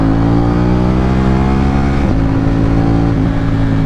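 KTM Duke 790 motorcycle with an Akrapovic exhaust revving hard and loud toward its 10,000 rpm redline, a steady high-rev drone with a brief dip in pitch midway before climbing again.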